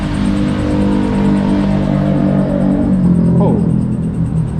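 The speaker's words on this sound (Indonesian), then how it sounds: "mohon maaf kalau berisik sama apa namanya, truk-truk besar yang lewat" A steady, loud low rumble of heavy traffic rolls past continuously, the deep drone of large trucks on a nearby road.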